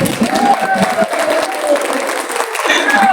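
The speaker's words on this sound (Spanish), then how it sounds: "si la reciben con un aplauso" An audience at a book presentation welcomes a guest with loud applause, dense clapping mixed with crowd murmur and voices, plus some tonal sounds and music-like tones over it.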